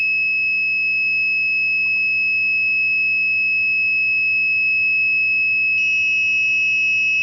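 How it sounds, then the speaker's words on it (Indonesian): An ESP32-driven IoT alarm buzzer sounds a steady electronic tone that runs unbroken and loud throughout, with a second higher pitch joining near the end; no voices are present. "Nah, di sini dua alarm itu sudah berbunyi."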